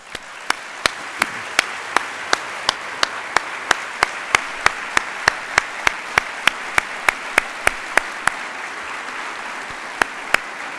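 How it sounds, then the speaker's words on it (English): Lecture-hall audience applauding service members in uniform: a steady roar of clapping across the whole stretch, with sharp, close individual claps punching through at a regular pace. "stand up so the rest of us can give you a round of applause"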